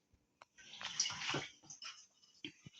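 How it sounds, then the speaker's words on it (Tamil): Water splashes and pours into a pot of rasam in a short, faint burst, with a few drips and light clinks around it. "இன்னும் கொஞ்சம் தண்ணி ஊற்றுங்க"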